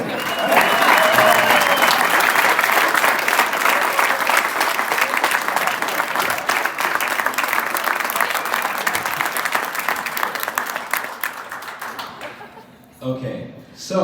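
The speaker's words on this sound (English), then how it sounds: "please give a huge round of applause for, it should be Alan Ramirez" Loud crowd applause and cheering at a Nashville SC Unified Team signing day, sustained for about twelve seconds before tapering off, with a few voices and scattered claps at the end.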